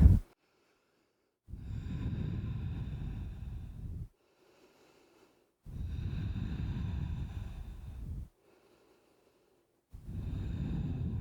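Slow, deep breathing during a yoga child's pose: three long, close exhalations, each lasting a couple of seconds and separated by quiet pauses, with no talking.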